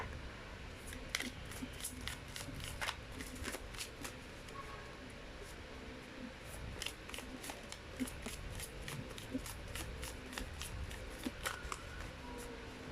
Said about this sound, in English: Having a hard time shuffling this because it's pretty big.